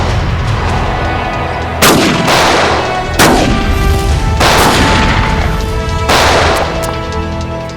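Gunfire in a shootout from a Hindi TV crime drama: four or five loud, booming shots crack out at irregular intervals, each one ringing off into a reverberant tail over a steady, noisy background.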